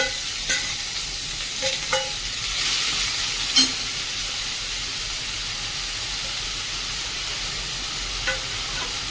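Spinach fries with garlic in a pan, making a steady, close, hissing sizzle broken by a few light clicks of a stirring spoon, no speech.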